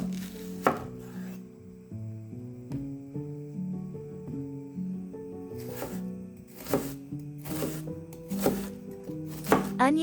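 An onion is chopped on a board, giving a few sharp knife strikes spread across the clip over a background of steady humming tones, with no talk.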